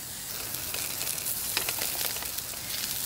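Steak sizzles on a camp grill outdoors with a steady, dense hiss and crackle. Scattered brighter pops rise over the continuous frying noise at moderate loudness.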